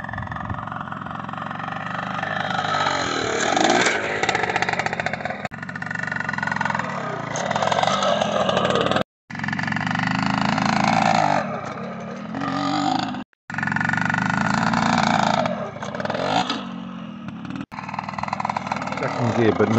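A trials motorcycle engine revs in second gear while crossing a log obstacle, a loud rough drone that rises and falls with short cutouts, mixed with someone talking nearby.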